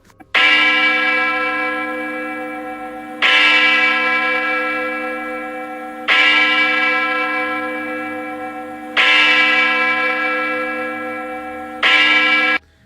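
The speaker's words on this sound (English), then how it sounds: "not just regular bells, huge ones, certain type of metal, like it let off a certain sound" Huge church bells cast from a special metal strike in slow succession, five loud resonant peals each ringing out with a long shimmering decay before the next blow.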